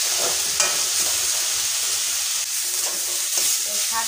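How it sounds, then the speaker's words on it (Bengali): Leafy greens fry in a pan, a steady close sizzle with faint stirring scrapes running the whole time and no voices. "শাক ভাজা হয়ে গেছে"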